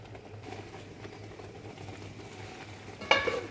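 A blended paste of spices, yogurt and coriander leaves fries in a pan, making a soft, low sizzle and hum. Near the end comes a brief, sharper clatter of stirring.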